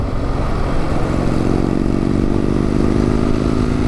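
A Kawasaki W800 motorcycle engine drones steadily at about 70 mph in fourth gear, a constant loud hum with wind noise and no change in pitch.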